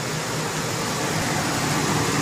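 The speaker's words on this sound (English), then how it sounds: "the engine's running right now with a kit going" A car engine fitted with an HHO gas kit idles steadily nearby, a dense, even mechanical hum with no change in pace.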